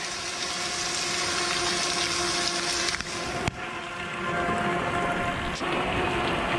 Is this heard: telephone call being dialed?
no